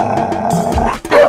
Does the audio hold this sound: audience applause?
no